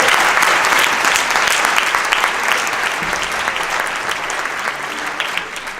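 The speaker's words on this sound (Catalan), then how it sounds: "Un aplaudiment també per ells" A concert audience bursts into loud, dense applause for a television crew, a steady wash of many hands clapping that slowly eases toward the end, with no speech over it.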